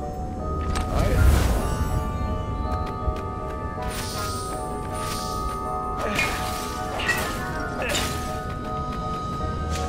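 Pots smashing in the video game Stories: The Path of Destinies: a string of crashes and thwacks in the middle distance, one heavier impact early and several lighter breaks later over a steady game soundscape, with no talking.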